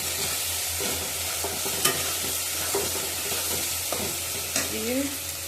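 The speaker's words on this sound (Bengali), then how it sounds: "টমেটোটা ভালো করে ভেজে নেব যাতে কাঁচা গন্ধটা চলে যায়" Tomato paste fries in a pan with a soft continuous sizzle, broken by occasional scraping stirs of a spoon against the pan, close and fairly quiet, with no talk.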